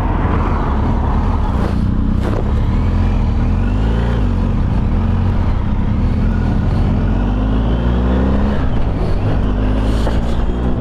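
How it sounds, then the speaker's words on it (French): A BMW R1250 GSA motorcycle riding along a French road, its exhaust a steady loud drone with wind rush, rising and falling slightly with throttle and no talking throughout. "Tiens, il y a le pot de Xavier qui me semble."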